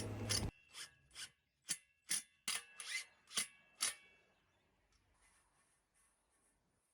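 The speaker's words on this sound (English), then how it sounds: "Pop the hinges back onto the gate frame and screw securely." A TruClose self-closing hinge is screwed onto a gate frame with a series of about eight sharp, evenly spaced ratcheting bursts, close and loud, then a faint clicking tail with no talk.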